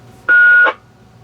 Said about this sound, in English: that's the beep tone